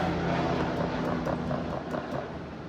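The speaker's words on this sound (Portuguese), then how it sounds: "Muito helicóptero aqui na Barra, tá um negócio doido." Helicopter passing overhead above the Barra neighborhood, a steady rotor and engine drone holding fairly loud and continuous throughout, slowly easing slightly toward the end with no talking.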